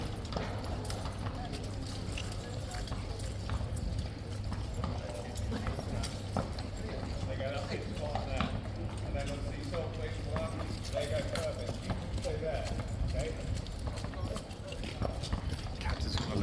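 King's Guard cavalry horses stand and shift on pavement in chilly weather, hooves clip-clopping irregularly nearby along with faint jingling tack, while someone talks over the scene.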